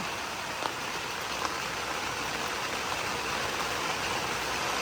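Steady rain falls on a Thai vegetable patch during a water spinach harvest, a dense continuous hiss with a few faint drop ticks and a low rumble beneath, no voices.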